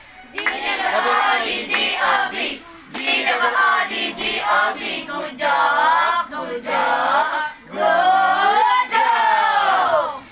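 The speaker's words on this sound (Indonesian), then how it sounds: "kasih Harinda tepuk good job" A class performs a rhythmic chanted clap routine in unison, young voices calling out the pattern in bursts with hand claps mixed in, loud and close, pausing briefly between phrases.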